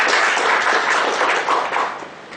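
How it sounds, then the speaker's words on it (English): Audience applause at a formal branch meeting after a presentation: dense, steady clapping from a roomful of people, fairly loud and continuous, tapering slightly toward the end, with no voices over it. "Round of applause"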